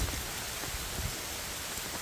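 Steady rain pours down during a hail and thunderstorm on Mt. Greylock along the Appalachian Trail, a dense, continuous hiss of drops close by with no voices.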